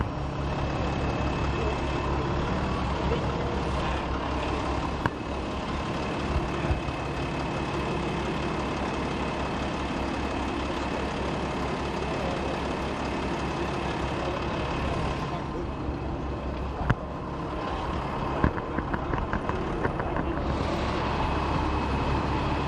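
A DAF rally truck idles at the start of the Morocco Desert Challenge, with a loud, continuous low engine rumble and other heavy engines around, while a voice talks over it.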